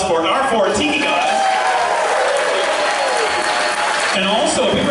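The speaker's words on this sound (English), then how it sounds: "Everybody, big round of applause for our 4 tiki gods." A crowd at an opening ceremony applauds the four tiki gods, with dense steady clapping and cheering at full loudness throughout and a voice speaking over it.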